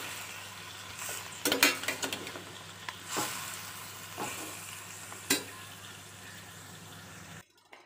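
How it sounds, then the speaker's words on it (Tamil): Mutton being stirred in hot oil in a pot for Tamil mutton kulambu, with a low steady sizzle and a few sharp spoon scrapes and clinks scattered through, fairly quiet and with no talking. "எண்ணெயோட மட்டனை கலந்தாச்சு"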